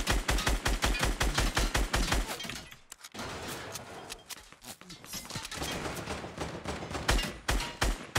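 Rapid gunfire in the video game Fortnite, bursts of shots crackling close and loud with a short pause midway before the firing resumes and keeps going.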